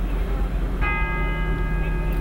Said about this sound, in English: The solemn ring from the church bell